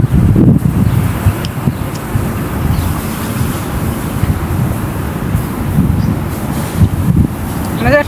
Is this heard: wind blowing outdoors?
yes